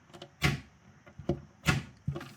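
Everbilt magnetic catch striking its plate as a cabinet door is pushed shut several times, each close produces a sharp, near click-thump at irregular intervals with quiet pauses between.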